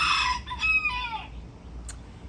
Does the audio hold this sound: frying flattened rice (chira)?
no